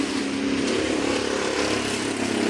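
Steady traffic roar from vehicles passing on a nearby highway next to a school, a continuous broadband engine drone at fairly close range.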